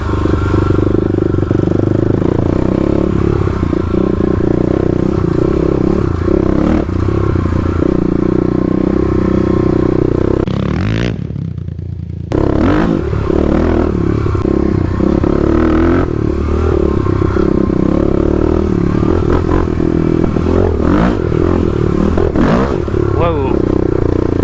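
A Stage 3 Kawasaki KLX351 dirt bike rides down steep Oregon forest trails, its engine revving and dropping loudly and close. Clattering and scraping run through it, the sound breaks off briefly near the middle, and a rider speaks at points.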